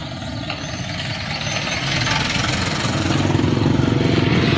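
Motorcycles and other engines hum through busy street traffic in Vietnam, a steady close drone of many idling and passing bikes that swells slightly louder over time, with faint voices mixed into the din.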